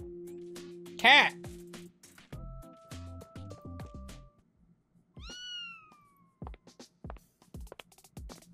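A cat in the Blue Archive video game gives a plaintive meow, set among game sound effects and musical tones, with a later rising cry, and no talking.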